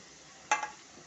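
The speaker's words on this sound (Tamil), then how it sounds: "லைட்டாக வதக்கிடலாம்." A brief sizzle and scrape of onions and spices, with asafoetida, salt and turmeric, being stirred in a hot pan, one short burst, fairly quiet and close, with no talking.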